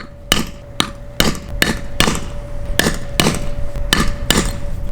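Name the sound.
rock hammer scoring a brick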